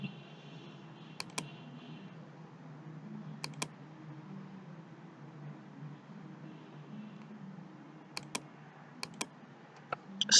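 Typing on a computer keyboard while entering spreadsheet shortcut keys, heard as sparse sharp key clicks in small pairs and clusters over a low steady hum, fairly close and quiet.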